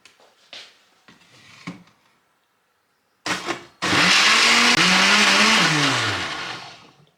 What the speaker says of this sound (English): Just blend it up real quick.